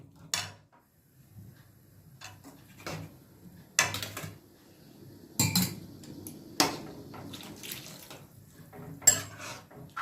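Scattered clinks and scrapes of a utensil against a metal pot stirring potato, onion and green chilli masala for puri, irregular knocks spaced a second or so apart, close by, with no talking.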